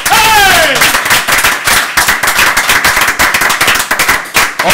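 Crowd applause and cheering in a TV studio for a former World Cup football player, dense rapid clapping throughout, loud and close, with some voices mixed in.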